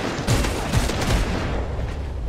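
Rapid gunfire in the multiplayer shooter Crossfire X on Xbox Series X, several loud bursts of shots and booms following one another in quick succession.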